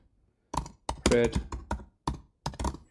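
Keys clatter on a computer keyboard in quick, uneven bursts, close and fairly loud, with short pauses between the runs of typing.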